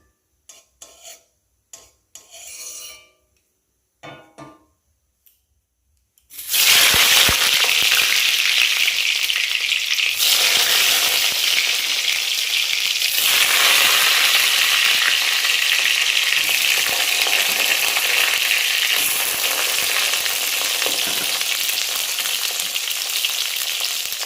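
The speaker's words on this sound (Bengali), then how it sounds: "বেগুনটা ভেজে দিই বন্ধুরা" Eggplant slices frying in oil, a few clicks and brief scrapes, then a sudden loud, dense, continuous sizzle that holds steady close up for the rest of the time.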